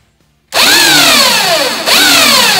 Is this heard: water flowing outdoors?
no